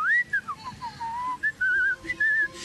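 A person whistles in imitation of a man passing on a bicycle: a clear, close melody of gliding, wavering tones in several short phrases with brief pauses, alone.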